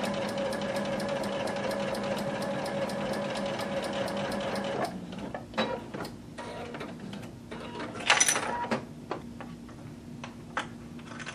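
A sewing machine basting a print skirt runs in a fast, even stitching whir for several seconds, then stops, followed by scattered clicks and handling noises.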